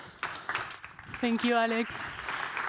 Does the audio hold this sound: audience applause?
yes